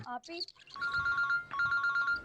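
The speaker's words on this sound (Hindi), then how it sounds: "एनी का बार बार फोन आ रहा है" A telephone rings in two bursts of trilling electronic tones, following a short stretch of speech.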